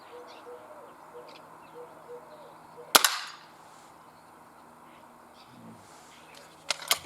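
A Benjamin Trail NP MK2 air pistol fires one sharp close shot, followed by a brief ring and quiet outdoor background with birds, then a couple of smaller clicks near the end.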